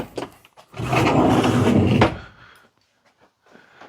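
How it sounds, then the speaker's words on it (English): The door of an old Invacar invalid carriage, dug out of storage, slides and scrapes open over about a second before going quiet. A brief spoken word and faint handling noises come before and after. "Open the door."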